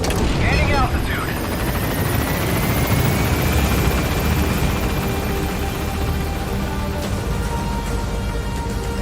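A helicopter lifts off in the Metal Gear Solid V video game, its steady rotor roar and engine whine filling the scene continuously and loudly, with game voices speaking over it.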